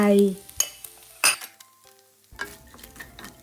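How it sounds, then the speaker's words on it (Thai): Minced pork stir-fried with fried garlic in a pan, irregular clanks and scrapes of a utensil against the metal pan over a faint sizzle, with quiet gaps between strokes. "ผัดให้เข้ากัน"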